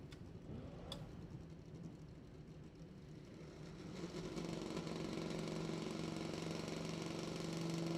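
Two drag racing motorcycles idle while staged on the start line at the ManCup World Finals, a rough, steady engine rumble heard from a distance that grows louder and fuller partway through, with no talking.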